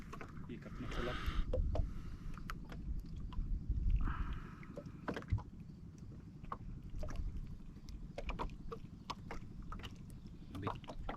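A small boat rocking on water with faint sloshing and creaks, light wind, and intermittent soft knocks; voices talk quietly at times.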